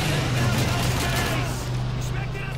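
MG42 machine gun fire in Call of Duty 2 during a World War II battle, rapid dense bursts crackling over a low rumbling background, fairly loud and continuous.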